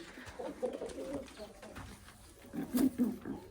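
Pigeons coo in low, throaty bursts nearby, a soft run early on and a louder cluster near the end, under a faint murmur.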